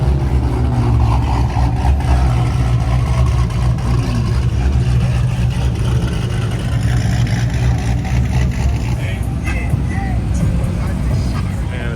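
A Nissan Skyline R33 drift car runs at a nighttime car meet, a steady low engine drone close by with people talking over it throughout.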